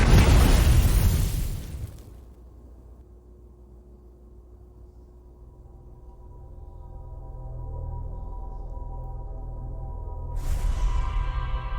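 A supernova in the game Outer Wilds opens with a huge roaring blast that fades into a low, hollow rumble. A swelling drone follows, and a second loud burst hits near the end.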